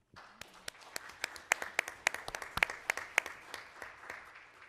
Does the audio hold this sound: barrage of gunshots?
no